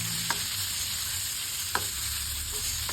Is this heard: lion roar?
no